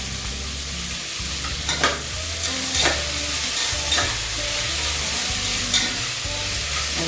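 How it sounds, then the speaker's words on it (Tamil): Chopped onions fry loudly in plenty of oil for tomato kuzhambu, a continuous close sizzle broken by several spatula scrapes and knocks against the pan, with no speech. "வெங்காயம் கல்லி போட்டுக்கலாம்."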